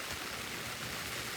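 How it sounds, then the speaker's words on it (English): Steady rain falls in Florida as a dense, even hiss of drops with no breaks, filling the short stretch without any voices. "But we got the rain coming down."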